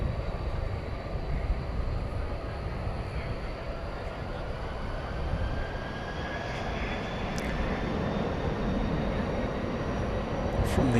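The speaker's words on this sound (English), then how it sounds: "Here now is a UPS A300." A UPS Airbus A300 cargo plane from 2000 at DFW Airport at night, its jet engines a steady distant roar that swells slightly over time, with no talking.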